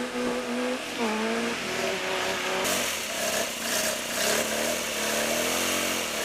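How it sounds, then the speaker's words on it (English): A Peugeot 205 GTI rally car at a Tredegar rally stage roars past, its engine note climbing and shifting through revs, loud and close, with a sharp brighter surge midway as it goes by. "Tudor Jenkins, Peugeot 205 GTI."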